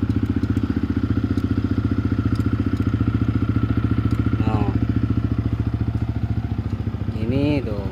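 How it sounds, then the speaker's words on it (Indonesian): A Yamaha WR155R motorcycle engine with its stock exhaust idles steadily in a close, loud, even rumble, with someone talking over it throughout. "Knalpotnya ini masih standar ya, jadi nggak terlalu ketiup."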